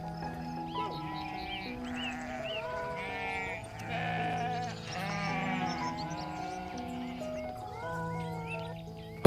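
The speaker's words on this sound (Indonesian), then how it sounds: "Para pria dengan mantel wol tebal mulai menggiring kawanan domba menyusuri jalan setapak yang curam dan berbatu." A flock of sheep herded along a steep, rocky mountain path in a Dagestan village bleats continuously, with many overlapping calls of varied pitch, some close and others farther off, with no voices.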